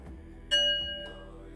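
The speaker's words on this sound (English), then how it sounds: "A bell or a gong or or a little gong or a singing bowl" A small bell or singing bowl is struck once, ringing out with a clear sustained metallic tone that slowly fades in a quiet room.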